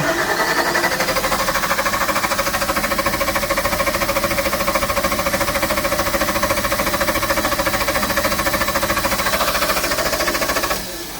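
A Kohler LP emergency generator engine running lean, giving a steady, loud mechanical drone with a rapid even firing pulse that holds constant before dropping off abruptly at the very end.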